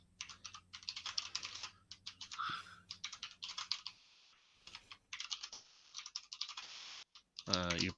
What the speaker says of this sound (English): That's the sound of a mechanical keyboard